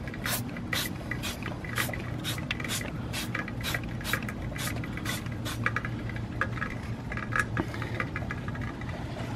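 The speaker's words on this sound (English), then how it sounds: "Let's spray a little bit more on." Iron and tar remover chemical is sprayed onto a car in a burst of short, sharp hissing sprays in quick succession, close and fairly loud over a low steady hum.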